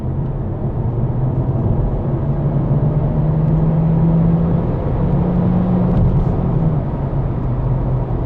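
Steady interior drone of a 2022 Mercedes A250e plug-in hybrid being driven in poor weather, a continuous low road and engine rumble with a faint whine, no talking.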